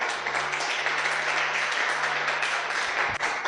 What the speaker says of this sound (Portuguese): Dê um aplauso para o Senhor.